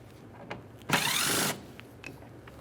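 On a 2011–2021 Jeep Grand Cherokee, a power tool buzzes in one short, loud burst of about half a second while backing out a 10mm mounting bolt, with faint clicks around it.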